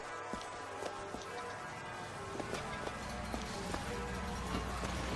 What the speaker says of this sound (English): They have a horse and...